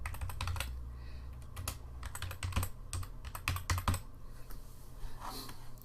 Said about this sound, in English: now I have to type in this again.